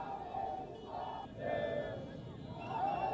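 Crowd of hundreds of residents in the capital of Burkina Faso celebrating the army's takeover, a steady mass of cheering voices that swells and ebbs throughout, loud and close.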